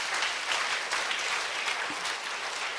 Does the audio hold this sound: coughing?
no